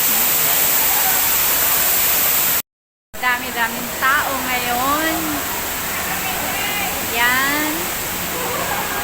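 Waterfall water at Bird Paradise in Singapore rushes in a steady, dense broadband roar, with a crowd and a voice talking over it and a brief cut to silence.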